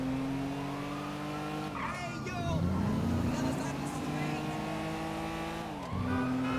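Cars drive in GTA 5 with sustained engine drones rising and falling in pitch as they speed up and shift, at moderate volume, with a faint tire squeal mixed in.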